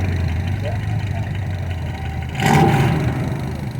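A Jeep fitted with a 5.9 litre six-cylinder engine, swapped in for the original 4.2, runs steadily at a classic and vintage show with a throaty rumble and one brief surge partway through, close by and with people talking over it.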